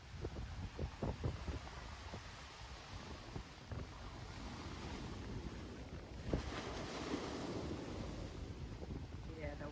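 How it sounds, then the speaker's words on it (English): Ocean waves splash against rocks along the shore of a Samoan village, a steady broad wash with heavier surges, mixed with gusting wind noise on the microphone. "Waves are just splashing up against the rocks."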